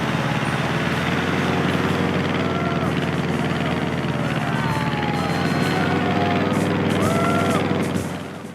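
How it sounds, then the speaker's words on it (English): A plane engine in Wii Sports Resort drones steadily and loudly, a constant whirring hum that holds level and then drops away at the very end. "The sound of your plane's engine and the way it spins and whooshes through the air is just amazing."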